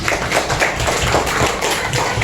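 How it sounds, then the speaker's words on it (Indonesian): Classmates in a school lesson clap together in a dense, continuous patter of many hands, loud and close, without speech over it. "tepuk tangan dulu untuk teman-temannya"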